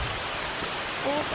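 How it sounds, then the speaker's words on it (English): Waterfall near a cabin in the woods on a cool day, a steady broadband rush of falling water that fills the whole clip at an even level, close and continuous with no talk over it. "Waterfall."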